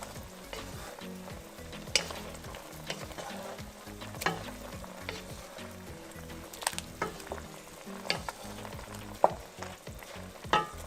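Pork adobo simmering in coconut milk sizzles steadily in a pan while a utensil stirs it now and then, with quiet scraping knocks rising at intervals above the constant frying hiss.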